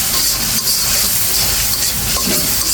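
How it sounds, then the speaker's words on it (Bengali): Turmeric, chili, salt and other spices sautéing in oil in a wok, giving a steady, close, continuous sizzling hiss with no pauses. "সব মশলাটা দিয়ে খুব সুন্দর করে কষিয়ে নিলাম।"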